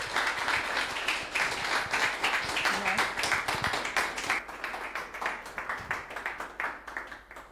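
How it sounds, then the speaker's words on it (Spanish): Audience applause at a lecture about Boric and inverted totalitarianism: dense, loud, sustained clapping from a crowd for several seconds, thinning slightly toward the end. "Un aplauso."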